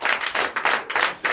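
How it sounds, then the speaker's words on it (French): A church congregation claps together at a Sunday teaching service, giving a dense, continuous burst of many hands close by with no talking. "je vous demande d'applaudir."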